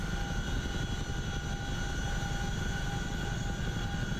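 A CH-47 Chinook tandem-rotor helicopter in DCS World runs its engines at the airfield, producing a steady, dense rumbling drone with a constant whine on top, continuous and unbroken with no voices.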